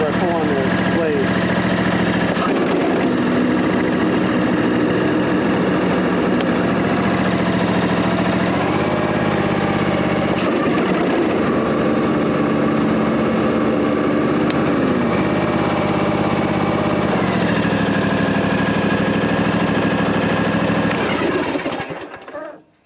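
An Ariens Ikon-X riding mower's engine runs steadily at idle close by, a continuous buzzing drone with slight shifts in pitch throughout, fading out at the very end.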